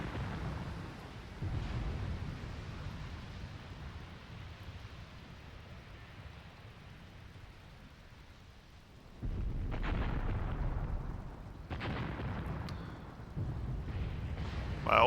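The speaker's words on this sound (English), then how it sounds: "took some casualties there from the artillery" Artillery explosions in Graviteam Tactics, a World War II battle at Kharkov, heard as distant rumbling booms with heavier, louder blasts in the latter half over a constant low roar.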